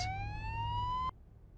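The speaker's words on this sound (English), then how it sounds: "It sounds like an ambulance is coming." An ambulance siren in the Spider-Man 2 video game, one rising electronic wail heard mid-distance that cuts off abruptly after about a second.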